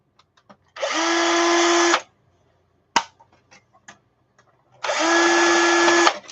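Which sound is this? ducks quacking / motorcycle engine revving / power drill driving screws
power drill driving screws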